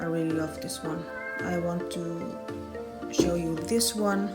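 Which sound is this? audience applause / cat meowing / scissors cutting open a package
cat meowing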